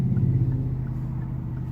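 Steady low rumble of a car driving through busy suburban road traffic near Riverview, a continuous engine and tire drone with even loudness and no voices.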